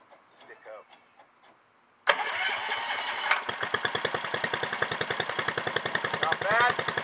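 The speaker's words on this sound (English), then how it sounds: "Started right up." A go-kart engine catches abruptly and settles into a loud, rapid, even putter close by, with speech before it starts and over the running engine.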